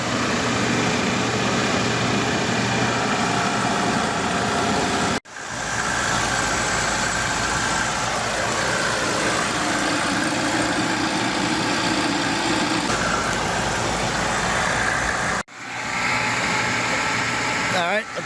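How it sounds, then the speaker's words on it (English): A refrigerant recovery machine runs steadily and loudly while drawing refrigerant from an air conditioning system during a Goodman compressor change, a continuous mid-pitched motor drone with two brief cutouts. "Got our recovery tank machine. So we're getting ready to pull the refrigerant out."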